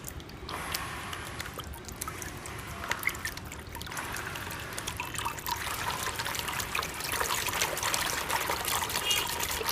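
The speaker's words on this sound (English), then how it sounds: "gradually increase the power, and then we can see that the pump also become more and more powerful" Water trickles and splashes steadily from a running DC50E-1280A pump, the flow growing gradually stronger and busier as its power is turned up.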